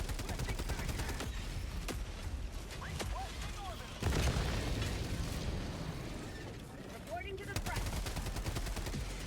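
Epoch weapon firing in the video game Helldivers 2, with dense bursts of gunfire and explosions layered in a continuous loud battle din, sharp reports recurring throughout.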